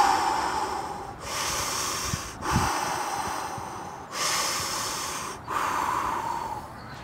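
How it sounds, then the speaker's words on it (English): Holotropic breathwork with circular breathing: loud, rhythmic, drawn-out breaths close up, with brief pauses between about four long cycles. "and you do circular breathing."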